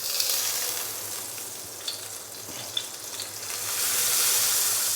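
Ghee and butter melt and sizzle in a pan for a butter omelette, a steady close frying hiss with a few small pops that swells louder at the end.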